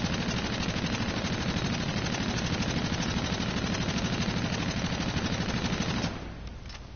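Rapid automatic gunfire from a weapon in Call of Duty: Infinite Warfare, a dense, continuous loud burst with no gaps for about six seconds before it cuts off and fades.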